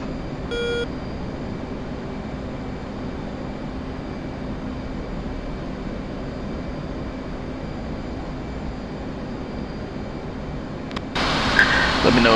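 Twin jet engines of an F/A-18 pushed to raised throttle in the DCS flight simulator, a steady close roar with no break, swelling into a brief louder burst near the end.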